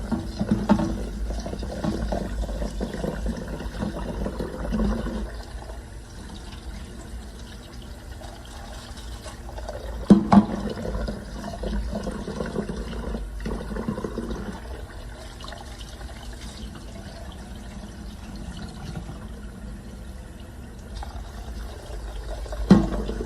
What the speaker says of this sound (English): So I'm gonna go ahead and rinse it out.